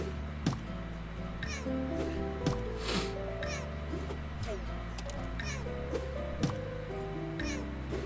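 A cat in the PS4 video game Dreams meows several times, short mews scattered over continuous looping game music with sharp clicky effects.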